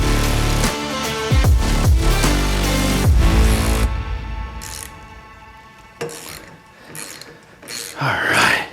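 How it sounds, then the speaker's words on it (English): Loosening the flywheel nut on a Wisconsin S-10D single-cylinder engine during teardown, with close, loud mechanical clanks and ratcheting bursts in the first few seconds, then scattered metallic knocks and rattles. "I am gonna clean this up real quick and pop this flywheel."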